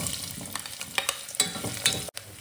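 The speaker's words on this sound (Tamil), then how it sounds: "வெங்காயத்தை போட்டுக்கலாம்." Onion sizzling in hot ghee alongside cinnamon, cloves, cardamom and fennel for coriander pulao, with a continuous crackle and several sharp spoon scrapes and clacks against the pan.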